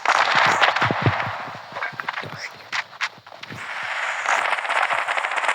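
Rapid, crackling bursts of gunfire in the game Standoff 2, sharp shots clustered early then scattered, over a steady background hiss.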